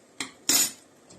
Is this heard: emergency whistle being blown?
no